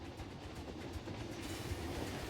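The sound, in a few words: trains running in Planet Coaster 2 video game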